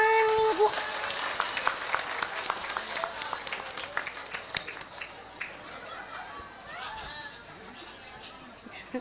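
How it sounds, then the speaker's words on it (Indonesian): Applause from the congregation at an Islamic sermon: a burst of many hands clapping that swells for a few seconds, then thins into scattered claps as murmuring voices and chatter take over. "Tepuk tangan maning bu."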